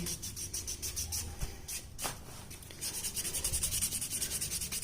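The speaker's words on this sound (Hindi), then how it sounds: "बस आपको इसे अपने नेल्स पे रब करना है कुछ सेकंड्स के लिए" A buffer rubbed back and forth on fingernails to remove shine before nail extensions: steady close scratchy buffing strokes in a quick rhythm, growing more regular and slightly louder toward the end, with no speech.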